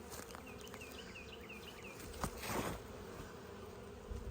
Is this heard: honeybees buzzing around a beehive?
yes